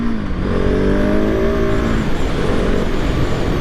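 A 2023 KTM 690 SMC R supermoto motorcycle engine revs loud and close, its pitch rising through strong pulls and then settling into a steady, rough roar, with no talking.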